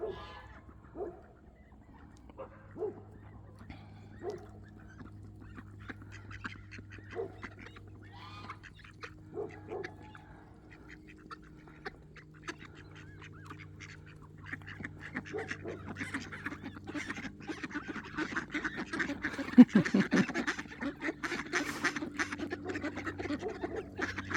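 Ducks quack and chatter intermittently, growing busier and noisier toward the end, with wet dabbling and pecking sounds alongside.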